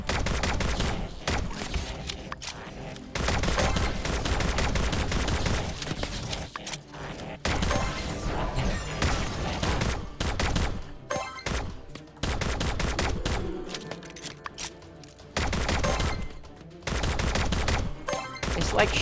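Gunfire in the game My Time At Sandrock, rapid bursts of shots repeating in dense volleys with brief pauses between them, loud and close, running nearly the whole time.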